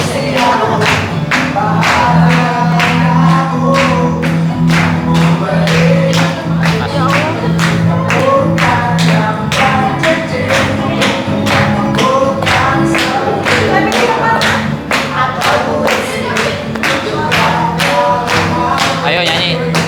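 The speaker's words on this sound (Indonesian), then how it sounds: "Tepuk tangan semuanya." An audience at a family celebration claps in quick rhythmic bursts for the whole stretch, loud and close, with voices and music-like tones underneath.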